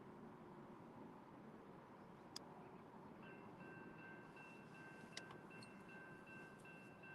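A train rumbles past on railroad tracks close beside the Mohawk River, a steady broadband roar with a faint high wheel squeal and occasional sharp clanks, heard without talk.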